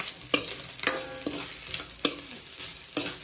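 Kodo millet noodles stirred in a frying pan, a spatula scraping and knocking in several distinct strokes over a steady sizzle, close and fairly loud.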